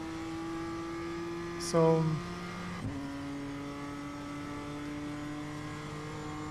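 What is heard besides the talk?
BMW M2 race car engine at Oulton Park, iRacing video game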